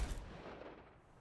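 A single gunshot fires an explosive payload round in a first-person shooter video game, a deep boom that rolls off quickly with a fading rumble, heard alone without talk.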